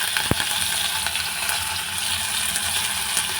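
Curry leaves and green chillies fry in hot oil in a pan, giving a steady, close crackling sizzle with a single sharp tick near the start.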